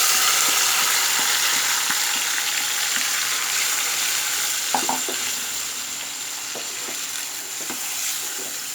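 Marinated beef hitting hot oil with fried onions for beef tehari, a constant loud hiss with intermittent spoon scrapes and knocks against the pot.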